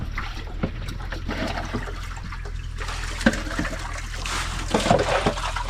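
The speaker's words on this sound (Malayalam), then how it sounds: "കുറേ വെള്ളം കൂടി ഒഴിച്ചിട്ട് നമ്മൾ കോരിക്കളയും." Water is poured and scooped out by hand during a fishing outing, with irregular sloshes, trickles and splashes close by, some louder scoops standing out. There is no talk.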